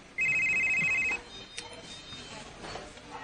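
A cellphone rings with a bright, steady electronic tone for about one second, loud and close, then stops, leaving quiet room sound.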